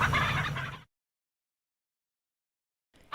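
Barnyard fowl call out in a short, loud, gobbling burst that lasts under a second, followed by near silence.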